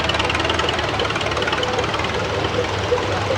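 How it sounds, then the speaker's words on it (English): An antique Farmall H tractor engine runs at a tractor show parade, a steady close knocking chug with low rumble throughout, no talking over it. "And now here we have Raymond Kraft on a H Farmall out of Pomptown, North Carolina."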